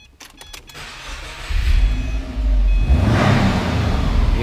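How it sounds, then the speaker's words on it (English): A used Subaru Impreza with a 5-speed manual and stock exhaust starts up with a few clicks, then its engine settles into a low, loud, steady rumble close by, with no talking. "Even for being stock exhaust, so has that nice Subaru rumble."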